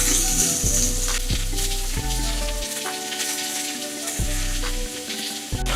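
Seasoned meat sizzles in a frying pan just after being flipped, a loud, steady crackling fry with popping spatters that continue without pause and without talk.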